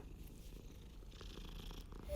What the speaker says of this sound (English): Oh, the kitty cat.